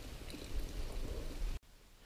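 Steady rain hisses down on slick sandstone along a Canyonlands hiking trail, a faint, even wash of drops heard alone, then it cuts off abruptly near the end.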